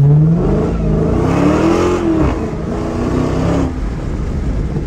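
A Dodge Challenger Hellcat with a 700-horsepower engine revs loudly and close, its pitch climbing and sweeping upward before settling into a steady throaty drone, with no voices.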